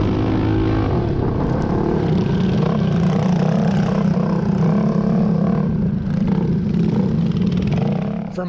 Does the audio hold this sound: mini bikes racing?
yes